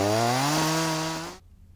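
A hacksaw cuts through an adjustable Hi-Lite 30 section held in a mitre box, giving a steady, close rasping stroke with a tonal ring that stops abruptly near the end.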